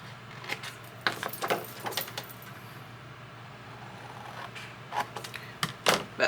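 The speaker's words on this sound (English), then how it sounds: "Okay, I'm going to cut this one out." Scissors snip through a paper piece for a junk journal, a scattering of short, crisp cuts in quick bursts, close and fairly quiet, with pauses between runs of snips.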